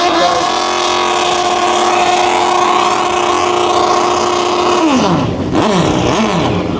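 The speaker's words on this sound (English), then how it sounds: "Someone doing a burnout in the pits." A car does a burnout in the pits at a car show: a loud, sustained engine roar holds a high steady pitch, then drops sharply and wavers near the end.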